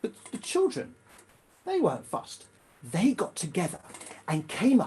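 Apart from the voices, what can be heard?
None of the usual background noises is heard.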